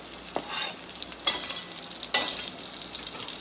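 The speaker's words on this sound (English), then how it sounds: "I put another pat of butter in here. So we're going to toss our onions." Onions being tossed and sautéed in butter in a pan, with a steady soft sizzle broken by three sharp stirring scrapes, close by and with no talk.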